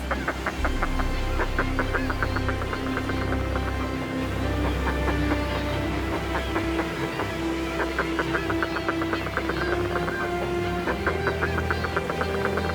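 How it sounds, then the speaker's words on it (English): Seabirds call excitedly along a sea cliff in Scotland on a breezy day, a dense colony chorus of overlapping raucous squawks and repeated cries sounding continuously and fairly close, with no speech. "They shout their excitement to other birds along the cliff."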